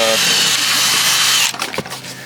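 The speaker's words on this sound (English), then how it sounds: "take your drill here with one of these brushes on it" A power drill fitted with a scrubbing brush whirs steadily at high speed for over a second while cleaning a car interior, then slows and scrubs intermittently with bristly, uneven bursts.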